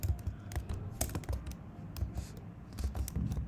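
Someone types on a computer keyboard while coding a Django project, a close, quick run of clicky keystrokes in uneven bursts with brief gaps, fairly soft and alone.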